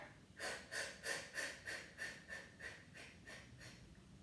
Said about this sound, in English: we're gonna take a nice big inhale again, and we're gonna jump our breath